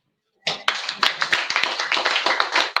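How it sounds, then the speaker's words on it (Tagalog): A church congregation bursts into clapping after a moment of silence, a close, lively patter of many hands with sharp individual claps standing out, continuing to the end. "Yung naniniwala, pumalakpak sa Panginoon"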